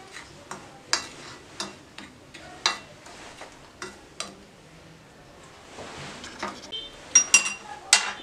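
Flour and cornflour are stirred together in a bowl, giving a steady series of sharp clinks and taps of a utensil against the dish, close and fairly loud, with a busier scraping stretch near the end.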